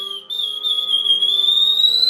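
A Lamy birdsong whistle imitating a field sparrow song, one clear, loud, sustained whistled tone that breaks briefly near the start and then glides slowly upward, alone and close.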